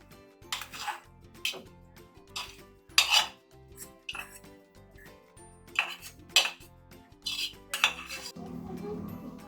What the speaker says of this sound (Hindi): अब हम मैगी को प्लेट में डालेंगे।